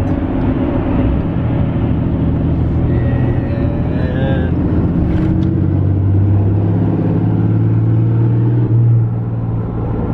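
An engine accelerates at a truck meet, giving a low, steady rumble that swells louder through the second half, with faint voices in the background.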